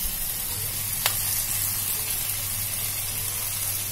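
Mushrooms and onion petals fry in a pan, a constant even sizzle of hot oil with a low hum beneath and one brief click, no voices present.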